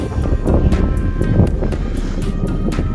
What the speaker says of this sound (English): the wind's picking up as well